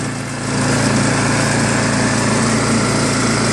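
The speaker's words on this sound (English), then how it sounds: "this is a Craftsman 24 wide 5 horsepower Lonsin Chinese engine with electric start" A Craftsman 24-inch snowblower with a 5-horsepower Lonsin Chinese engine and electric start runs steadily. It gives a loud, constant, buzzing small-engine drone that holds even after a brief rise at the start.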